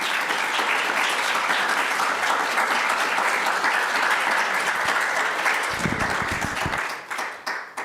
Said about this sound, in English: I'd like to give Carl an applause